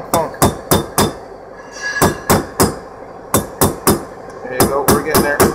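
Hammer tapping a front wheel bearing into its seat on a 1966 Chevrolet Impala: sharp metallic blows in quick groups of three or four, close and loud, with short pauses between the groups.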